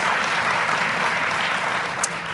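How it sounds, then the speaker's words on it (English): An audience at an NAACP speech gives polite applause, heard as a steady, even spread of clapping that stays constant through the short stretch without any talking. "Romney was greeted with polite applause throughout the speech"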